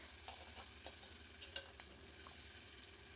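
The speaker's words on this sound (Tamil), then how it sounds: "மஞ்சத்தூள் போட்டு கருவாட்டை வறுக்கும் பொழுது அந்த கருவாடு வாசனை வந்து அதிகமாக வந்து இருக்காதுங்க." Dried fish fries in oil with turmeric for a fish curry, giving a steady close sizzle broken by a few sharp stirring clicks, with no voices.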